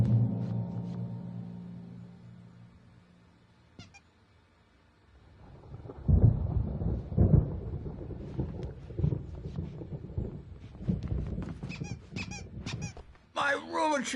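Thunderstorm in the video game Alan Wake: a low rumble that fades, then turbulent gusting storm noise with sharp crackles builds up, while a voice speaks over it.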